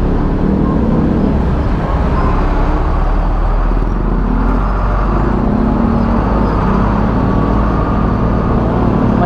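Dense road traffic crawls along a narrow, congested street in Marikina, a steady loud rumble of car and bus engines close by with no pauses, continuous throughout.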